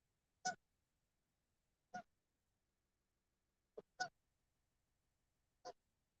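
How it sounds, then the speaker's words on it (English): Geese on a lakeside dock give five loud, separate honks spaced over several seconds, close by and alone against near silence. "The geese are yelling at me because I'm on the dock that they think that they want to take over."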